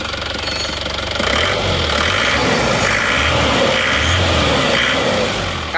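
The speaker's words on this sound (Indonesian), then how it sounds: "Kita perdengarkan dulu suara mesinnya." A car engine recently overhauled runs at idle, a steady close mechanical rumble with rhythmic knocking pulses and a slight rise in revs partway through, with no talking.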